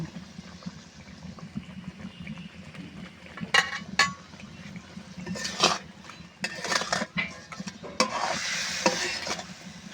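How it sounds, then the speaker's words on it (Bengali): Koi fish fries in spice masala with a steady sizzle as a spatula stirs and scrapes, bursts of louder hissing and clanks of utensil against the pot, close by and without talk. "মশলাটা কষানো হয়ে গেছে, এর মধ্যে মাছটা দিয়ে একটু কষিয়ে নেব।"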